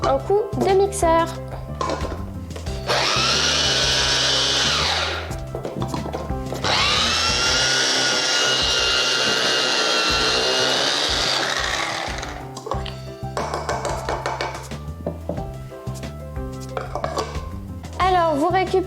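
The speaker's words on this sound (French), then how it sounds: "Et c'est reparti pour un coup de mixeur." A food blender whirs loudly, mixing oven-baked pear with a speculoos base, running in two long sustained bursts with short pauses between them.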